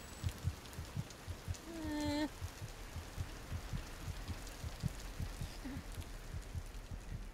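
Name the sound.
heartbeat or rain on the ceiling in video game Among the Sleep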